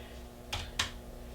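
Two quick, faint keystrokes click on a computer keyboard, sharp and close against a quiet background hum.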